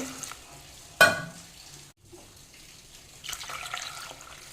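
A sharp splash of water into a pot with cumin and jaggery, a brief quiet, then a softer stretch of pouring and sizzling near the stove.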